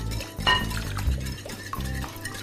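Milk goes into a batter and is stirred in a bowl, soft close swishing and scraping with a light clink over a low steady hum.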